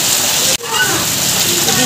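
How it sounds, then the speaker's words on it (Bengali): Steady rain pours onto a house rooftop in Bengal, a loud, dense hiss that continues throughout, with one brief dip near the start and faint voices beneath it. "বৃষ্টি শুরু হয়েছে"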